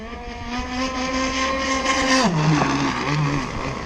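ZippKits Vbox RC gas boat running on water, its small two-stroke engine buzzing loudly and steadily at high pitch, then dropping in pitch midway as it eases off and turns before holding a lower drone.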